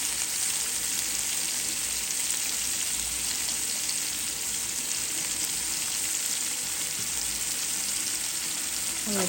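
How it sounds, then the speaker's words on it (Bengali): Chopped tomatoes and salt fry in a pan for a shrimp bhuna, giving a steady, dense sizzle that crackles on without a break and holds at an even level throughout, with no voices. "একটু ভেজে নেব।"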